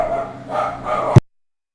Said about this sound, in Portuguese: Desculpa pelo latido dos cachorros